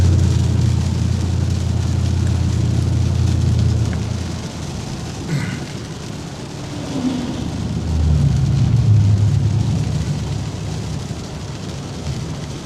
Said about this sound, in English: Right now, believe it or not, I'm actually driving my truck.